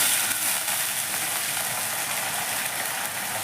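Water hitting fried onions in a hot pan sets off a loud, dense sizzle that holds steady and close for a few seconds, with no talk over it.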